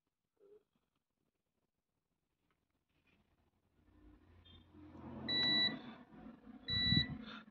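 A tester checks the output of a three-wire laptop power supply cable, giving two short, bright beeps amid handling clatter that follows near silence.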